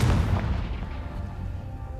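A single heavy booming blast from the Confringo fire-blast spell in Hogwarts Legacy, loud and close at the start, then a rumbling decay that fades over two seconds.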